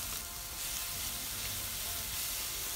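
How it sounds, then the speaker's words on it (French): Onion, garlic and bacon bits frying in olive oil in a pan, a steady close sizzle and crackle throughout with no talking. "puis on met l'oignon, mélange, puis l'ail, quelques lardons selon votre goût."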